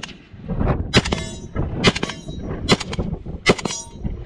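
A 7.62x39 rifle fires at an outdoor range with four sharp, loud shots spaced roughly a second apart, each with a ringing clang-like crack and short echo, and no talk.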